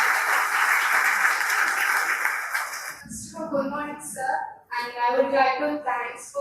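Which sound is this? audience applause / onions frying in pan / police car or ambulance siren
audience applause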